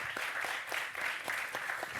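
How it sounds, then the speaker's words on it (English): Listeners at a panel on EU regulation applaud the speakers. The clapping is moderate and fairly close, with distinct individual hand claps standing out from the steady wash of applause throughout. "I want to take an applause for our speakers."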